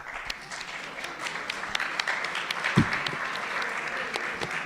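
An audience at a university talk in Esquel applauds in a moderate, continuous patter of clapping with scattered sharper claps and one low thump.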